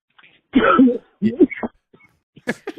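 A harsh, hacking cough and throat clearing up close after a bong hit, a few rough bursts with short gaps between them.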